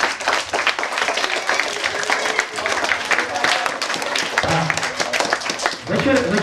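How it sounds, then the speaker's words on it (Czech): A crowd claps loudly and continuously for the yellow team at a camp team-games awards evening, dense applause filling the whole stretch, with voices mixed in under it. "prosím velký potlesk pro celý žlutý tým"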